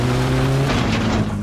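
A car in the driving game My Summer Car revs hard while accelerating, its engine tone loud and close and climbing in pitch over a brief burst, with some tire noise.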